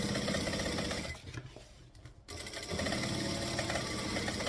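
A sewing machine top stitching along a fabric edge runs in a loud, steady whir, pauses for about a second, then starts again at full speed with no talking.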